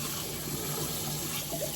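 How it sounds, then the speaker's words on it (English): Cold tap water runs steadily over a pot of freshly boiled eggs, a continuous close hiss of pouring liquid with no speech. "I'm gonna put them in some cold water."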